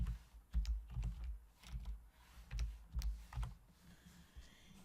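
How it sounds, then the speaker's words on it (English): Someone types a search word on a computer keyboard: a short run of soft, quick key taps in an uneven rhythm, close and quiet, with no talking. "Let's put in the word daffodil."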